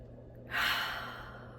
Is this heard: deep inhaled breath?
yes